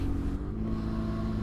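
A BMW engine turns over smoothly at a steady idle, a low, even, rounded hum with no revving, close by and moderately quiet.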